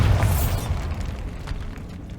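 A Bombarda spell blast in Hogwarts Legacy: one loud, deep explosion that booms at the start and then rumbles and decays over about two seconds, alone with no voices.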